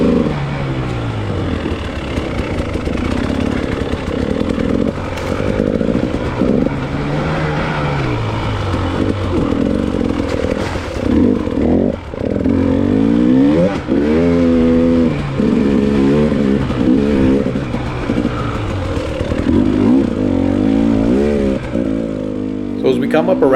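Dirt bike engine racing in a hare scramble on a motocross track, mid-pack, droning and revving loudly and continuously throughout with shifting pitch, no pause in the sound.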